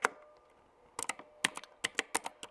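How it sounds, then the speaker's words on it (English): Close, crisp keyboard keystrokes in a quick irregular burst, clicking alone after a brief pause. "that's my keyboard sound"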